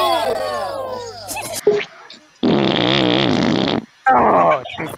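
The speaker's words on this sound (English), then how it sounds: "I got a fart." Loud, drawn-out farts rasp and flutter in several bursts of one to two seconds each, with laughing and excited voices between them.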